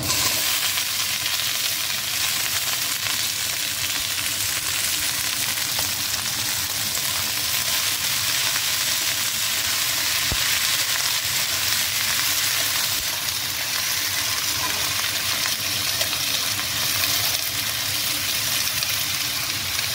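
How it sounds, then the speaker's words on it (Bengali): Potatoes and bitter gourd fry in a pan with a steady, dense sizzle that carries on throughout, up close and fairly loud. "এবার আলুর সাথে ভেজে নেওয়া যাক, আলু আর উচ্ছের সাথে"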